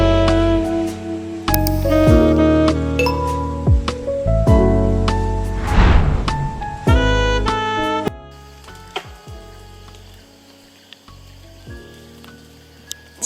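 Seeds drop from a tree on Phu Quoc island in Vietnam with a dense patter like rain, layered under bright music that later thins out, leaving scattered light impacts.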